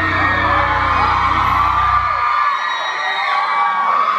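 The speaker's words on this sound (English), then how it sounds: "I cannot remember the last time that a crowd was this loud before" A concert crowd at a showcase in Mexico screams and cheers loudly, a dense roar of high-pitched shrieks and whoops that carries on continuously from near and far.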